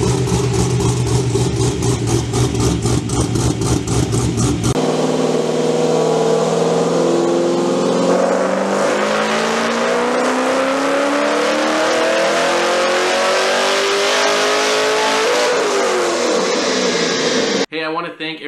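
A C6 Corvette with a BTR Stage 4 cam sits on a dyno, a choppy lumpy idle giving way to a loud sustained wide-open pull rising steadily in pitch for about ten seconds before the throttle snaps shut.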